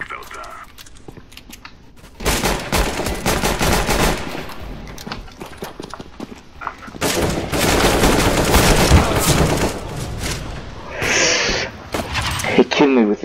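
Loud gunfire in Counter-Strike: Global Offensive, with dense bursts of automatic fire and rapid shots in two long stretches separated by short pauses, close and heavy throughout.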